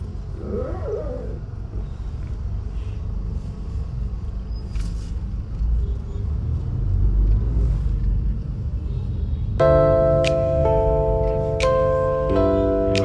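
Steady low rumble of passing road traffic in Mangaon town, Konkan, with engines droning, later joined by a bright sustained horn-like tone near the end.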